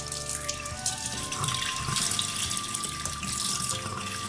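Tap water running steadily into a sink while a calcium test vial is rinsed, a close continuous splashing stream with no talk over it.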